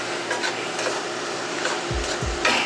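Mushrooms seasoned with salt and black pepper sizzling in a pan, a steady hiss with a few low clunks of stirring near the end, close and alone.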